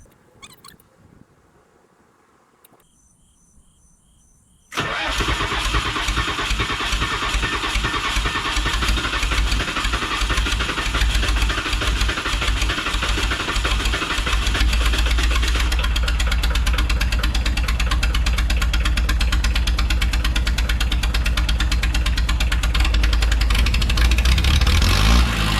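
A skid steer loader's diesel engine starting cold on a night in the 40s to 50s with sludgy oil: quiet before, then it cranks and catches at about five seconds and runs on as a loud, steady, rough, knocking idle.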